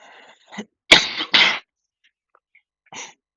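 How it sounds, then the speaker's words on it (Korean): A few harsh, explosive coughs from a person with a cold, in quick succession, close by, separated by short quiet gaps, with a lighter cough at the end. "아직 감기가 다 낫지 않아서 기침이 계속 나오고 있는 점 양해 말씀 부탁드립니다"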